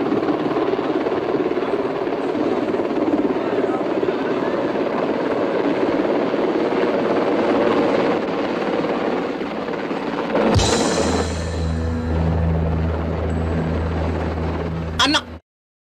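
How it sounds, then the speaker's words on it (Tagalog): Helicopter arriving, a loud continuous rotor roar and whine that fills the scene, then shifts to a deeper pulsing thump toward the end before cutting off abruptly. "Naka-helicopter pa!"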